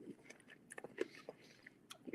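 A big crunchy green table grape being bitten and chewed close up, with a few small sharp crunches and soft wet mastication clicks, quiet and without talk.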